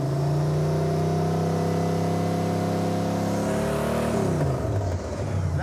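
A Chevrolet Camaro engine with a new HEI ignition runs loud and close, holding a steady drone, then the revs drop sharply with a rougher, irregular exhaust note near the end, with no talk.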